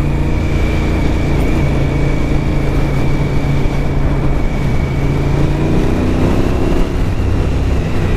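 A motorcycle with its muffler refitted runs steadily up close for the whole stretch, its engine note a low, fairly tame drone mixed with constant road and wind rumble.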